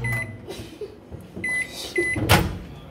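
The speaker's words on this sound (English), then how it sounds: "Put it in the microwave for 1 minute." A microwave oven hums as it runs in a home kitchen, a steady drone broken by a few clunks and bumps nearby, with no talking.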